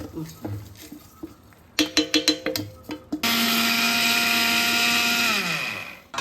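A loud mixer grinder runs steadily for a few seconds after some clattering and short bursts, with faint talk in the background before it starts.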